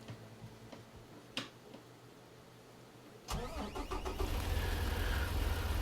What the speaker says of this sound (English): The engine is a Cat 3306